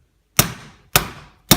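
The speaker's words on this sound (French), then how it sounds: "Il faut prendre le tournevis et venir taper." A screwdriver taps the domed bottom of a drink can three times at an even pace, each strike a crisp, close metallic knock with a short ringing decay, and no voices.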